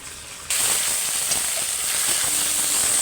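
Ginger garlic paste sizzles steadily in hot oil over onions already fried red-brown, a near, continuous frying hiss that rises sharply half a second in and holds without talk.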